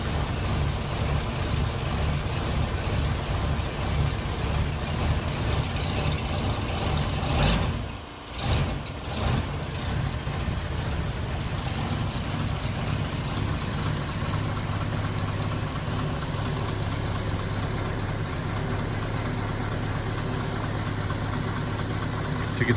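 A 1934 LaSalle sedan's engine idles after a cold start in freezing weather, a steady low rumble running continuously with one brief dip in the middle.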